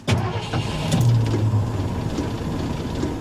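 A 1982 Ford F150 truck engine that has sat unused for a long while catches and runs roughly near the microphone, a steady mid-pitched rumble with a surge early on, no talking.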